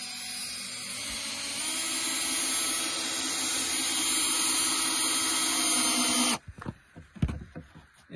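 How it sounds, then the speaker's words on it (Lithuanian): A power drill drives a screw into a yurt floorboard, a steady whining motor hum lasting about six seconds and then cutting off, followed by a few knocks and handling sounds. "Pažiūrom, kaip jais prisukti pirmą varžtą į pirmą grindinę."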